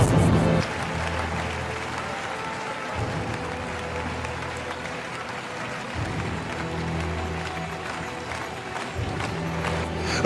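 A studio audience at a gospel music television show applauds in a dense, steady wash of clapping for about ten seconds, with a low pulsing rhythm underneath it.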